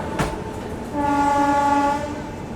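The Jammu Tawi–Kolkata Express passes close, its sharp horn sounding a long steady blast over the rumble of rolling wagons.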